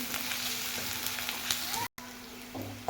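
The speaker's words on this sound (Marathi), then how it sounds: "लसूण ठेचून टाकायचं आहे. तो पण फ्राय करून घ्यायचा." Onion and crushed garlic frying in a pan for a dal and potato dish, giving a continuous close sizzle with a few light stirring scrapes and a brief dropout near the end.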